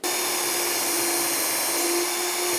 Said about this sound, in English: I can now drill the rest of these holes.